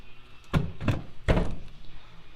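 Small rowboat's door being converted for bass fishing swings and knocks against protruding bolts, giving three dull, close thunks about half a second apart, the last one loudest.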